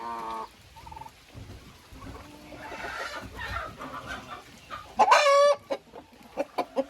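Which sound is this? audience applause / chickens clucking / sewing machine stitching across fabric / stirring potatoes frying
chickens clucking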